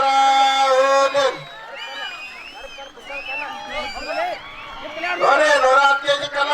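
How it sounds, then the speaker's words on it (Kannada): Crowd noise at a village fair strongman show where wrestlers lift heavy stones, with a loud burst of cheering and voices at the start and again near the end, and a quieter crowd murmur in between. "ಪ್ರೇಕ್ಷಕರು ಚಪ್ಪಾಳೆ ಹೊಡ್ರಿ"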